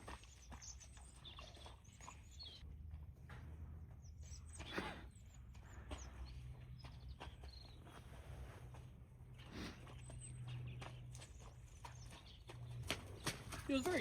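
Steady hoofbeats of a white horse walking in Ireland, clip-clopping at an even pace, with a low background hum and occasional voices nearby.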